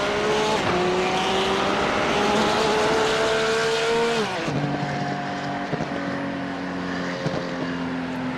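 A GT3 race car engine in iRacing at the Ledenon circuit holds a loud, steady high-revving drone, then abruptly drops in pitch as the car lifts off the throttle and carries on at a lower, rougher note.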